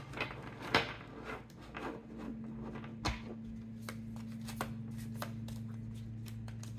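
A deck of oracle cards is shuffled in a series of soft papery riffles and taps over a steady low hum, close and fairly quiet, with no one talking.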